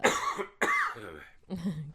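Someone coughs three times in quick succession, harsh and close, each cough a short rough burst.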